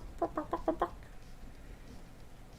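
A person imitates chicken clucking with five quick, close, rhythmic clucks, then falls quiet, leaving only soft room noise.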